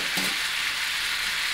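Ribeye steak sizzles steadily in a hot pan, a dense hiss holding for the whole short moment with a brief thicker burst near the start, no voices over it.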